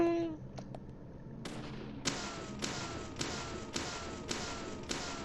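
Gunshots hitting boxes in the video game Deadly Premonition: a series of about six sharp, evenly spaced shots with crisp impacts, fairly quiet overall, following a few brief tonal notes at the start.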